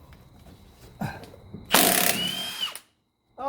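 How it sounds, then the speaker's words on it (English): A tool works a 19mm nut on the control rod at the lower control arm of a 1985 Mercedes 300SD: a few short clicks, then a loud, close whirring burst lasting about a second, followed by silence. "we need to remove the front of the control rod from the lower control arm. And I think that's a 19mm nut on the bottom."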